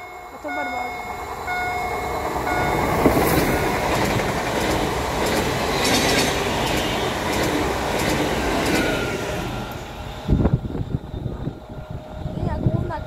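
A train rumbles past on the Kraków Główny main line in Poland with a dense, steady clatter of wheels on track, then the noise thins out and breaks into a few sharp knocks near the end.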